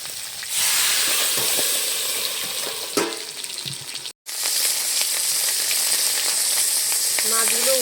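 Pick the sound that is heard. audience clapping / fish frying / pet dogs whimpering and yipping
fish frying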